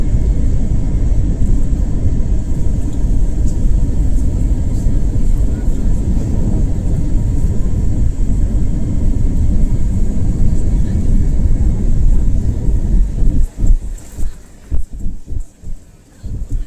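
A passenger airliner lands at Barcelona airport, heard from inside the cabin as a loud, steady low engine and air roar that breaks up near the end with thumps and rumbles of touchdown.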